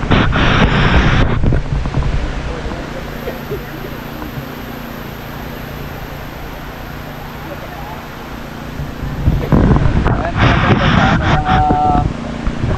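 Water pours steadily down the sides of the memorial pools in New York City, a broad constant rushing wash heard outdoors with wind buffeting, while a person talks over it at the start and end.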